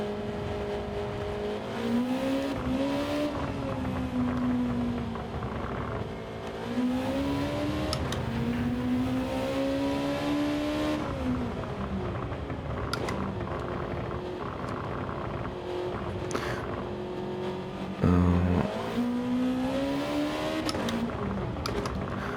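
A car engine in Gran Turismo 7 revs repeatedly while stationary, with the pitch climbing and falling in several sweeps. It sits as a steady, loud drone throughout, with no talk.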